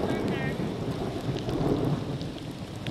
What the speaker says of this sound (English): Ooh, hear that thunder?